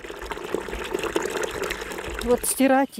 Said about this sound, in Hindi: लेरमोंतोफ स्ट्रीट पर लगे इस वाटर पंप से लोग रोज़ाना मटियाले पानी की बाल्टियां भर भर के अपने साथ ले